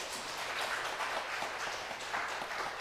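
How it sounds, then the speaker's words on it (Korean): A church congregation claps to welcome a visiting missionary during Sunday worship, a steady, even patter of many hands at moderate distance that carries on without pause. "함께 박수로 환영할까요?"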